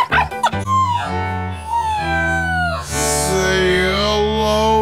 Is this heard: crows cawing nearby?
no